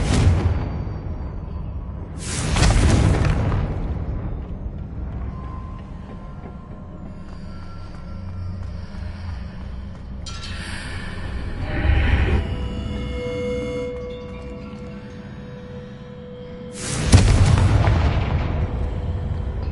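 Confringo spell blasts in the Hogwarts Legacy video game: three loud booming bursts spaced several seconds apart, with quieter game ambience and a faint sustained tone between them.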